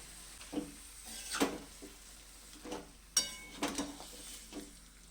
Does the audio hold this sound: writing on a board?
no